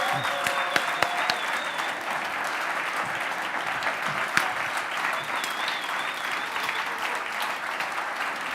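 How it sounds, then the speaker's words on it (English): Sustained audience applause for a team called up on stage, a dense steady wash of clapping from a crowd, loud and continuous throughout with a few sharper individual claps near the front. "And give them a big round of applause."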